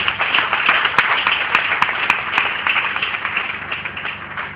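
Worship congregation applauding and acclaiming Jesus Christ during a praise service, a dense, steady wash of many hands clapping at close range, with a few sharper individual claps standing out, continuous for the whole stretch.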